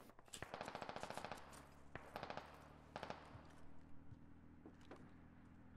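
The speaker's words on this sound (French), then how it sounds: "Ça tire au rez-de-chaussée." Gunfire on a ground floor in the squad game Squad: quiet but clear rapid automatic bursts rattle out, then shorter bursts and single shots follow at a distance.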